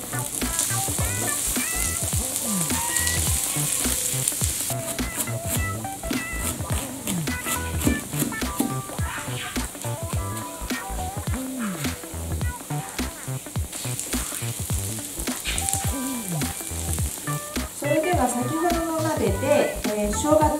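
Minced ginger and garlic stir-fry in a pan for chicken curry, giving a steady loud sizzle over about twenty seconds. Wavering high tonal sounds, something like meowing, run over the frying throughout.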